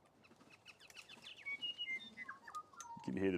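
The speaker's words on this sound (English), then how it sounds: "You can hear the birds right above me playing" Bright, scattered bird chirps and short whistled notes ring out overhead, fairly faint, with a brief louder burst near the end.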